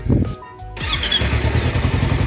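A Kawasaki Versys-X 250 motorcycle engine idles close by with a steady low throb, rising into a busier, brighter running sound after a brief quieter moment at the start, with no talk.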